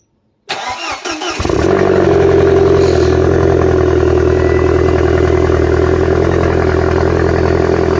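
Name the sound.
Audi car engine cold start without exhaust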